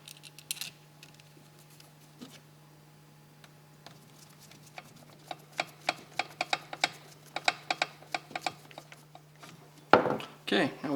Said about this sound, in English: And now we can replace the four screws.